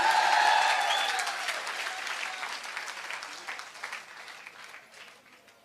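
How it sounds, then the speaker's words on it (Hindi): A crowd claps loudly at first, then the applause slowly thins and fades. "एक बार जोरदार ताली होनी चाहिए"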